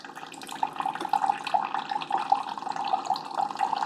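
A Keurig K-Supreme coffee maker brews a balanced 8-ounce cup through a reusable My K-Cup filter, with a steady rushing, gurgling stream of hot water and fine dripping, close up and continuous.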